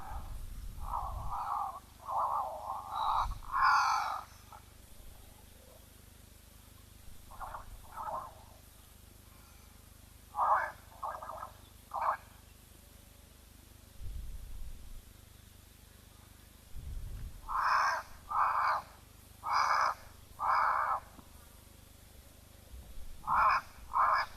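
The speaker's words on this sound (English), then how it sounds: "Sounds like some crows calling that I can hear in the background." Crows caw in clusters of harsh calls at a waterhole, spaced across the clip with quiet gaps, fairly distant over a low background rumble.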